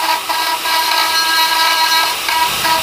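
A drill bit tip bores slowly into dead wild olive wood, producing a loud, steady whine with a tonal edge that wavers slightly as the bit bites into the tough fibres.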